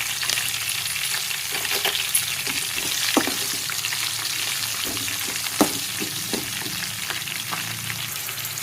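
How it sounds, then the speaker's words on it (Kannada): Cashews and green chillies fry in hot oil, a continuous dense sizzle and crackle with occasional stirring clicks, close and steady throughout. "ಈಗ ಇದಕ್ಕೆ ಗೋಡಂಬಿ ಹಾಕ್ಕೋತಾ ಇದ್ದೀನಿ."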